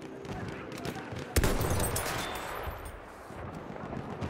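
Sniper rifle shots crack out in Battlefield 1 among distant battlefield gunfire, with one sharp, loud report standing out midway over a constant rumble of combat.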